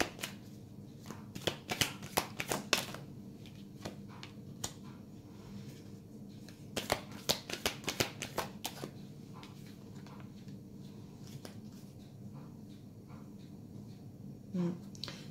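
Tarot cards being shuffled by hand in quick crisp bursts of riffling and tapping, quiet and close, with pauses between flurries and a faint low room hum.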